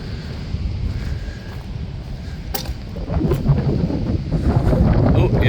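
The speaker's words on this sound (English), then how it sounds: "Oh, yeah, here's the wind." Wind blows outdoors beside water-control gates, rumbling and buffeting against the microphone and growing stronger partway through, with faint voices in the background.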